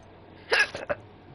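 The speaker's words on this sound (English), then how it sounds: "Oh, hiccups." A character in the video game Hogwarts Legacy gives a single sharp hiccup followed by two smaller catches of breath, close and clear over a quiet background.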